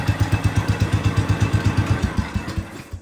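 A Cub Cadet 105 lawn tractor engine runs nearby with a fast, even, thumping putter for about three seconds, then trails off at the end, with no talking.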